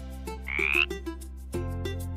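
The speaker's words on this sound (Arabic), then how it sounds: "Frog." A frog croaks among a short run of bright, repeated calls over a steady, even background tone, heard alone with no talking.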